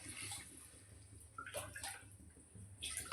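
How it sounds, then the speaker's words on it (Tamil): Water splashes and trickles in short bursts into a cooking pan with liver, close by, with a steady low hum underneath. "கொஞ்சம் தண்ணி ஊற்றிக்கோங்க."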